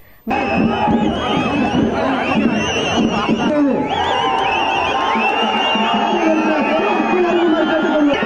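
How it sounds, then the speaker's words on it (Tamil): Party supporters at a political rally clamour and shout in a dense, loud crowd din, voices overlapping continuously from start to finish after a brief quiet opening. "கட்சித் தொண்டர்கள் ஆரவாரம் செய்ய தொடங்கினர்"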